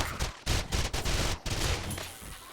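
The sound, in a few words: SMG gunfire in video game 7 Days to Die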